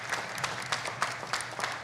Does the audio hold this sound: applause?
yes